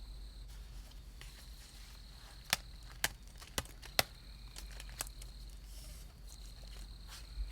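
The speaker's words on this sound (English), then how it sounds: "I hear carpenter bees digging in wood" Sharp, isolated clicks and taps of carpenter bees digging into wood, about six spread over several seconds, over a steady quiet outdoor hum with a faint insect-like buzz.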